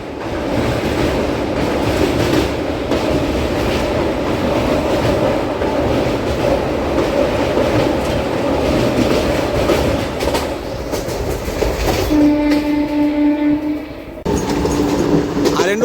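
The Pinakini Express rolls past on a parallel line with a loud, continuous rumble and rail clatter close by. Brief horn-like tones come near the end.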